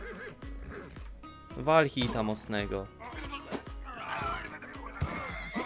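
A horse whinnies in the video game Rustler, a loud rising neigh standing out briefly amid steady male chatter and background game sounds.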